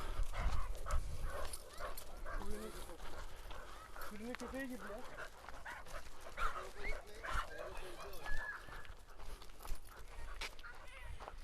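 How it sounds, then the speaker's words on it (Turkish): Dogs bark, growl and whimper in a noisy dogfight among flock-guarding dogs, with people talking and shouting over the commotion throughout. "Orada köpekler birbirine girdi aşağıda. Orada kavga var."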